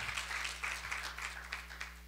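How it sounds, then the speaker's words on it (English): Steady applause from a crowd, a dense patter of many hands clapping at a constant level for a couple of seconds. "Let's give them a round of applause"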